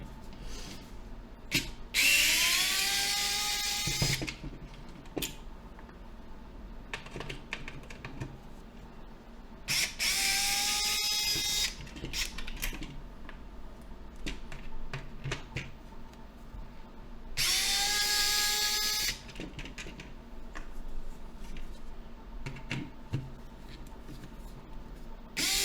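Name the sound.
rechargeable screwdriver removing Nintendo 64 screws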